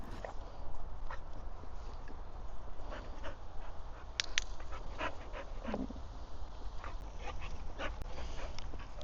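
Dog at a shelter moving about nearby, with soft whimpers, panting, and scattered clicks and taps over a steady background hum; no speech.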